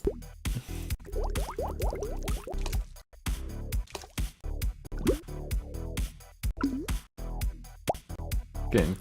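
Bubbly water effect of bubbles being blown in a bathtub, a series of wet plops, drips and gurgling bursts with short pauses between, close and fairly loud, no talking.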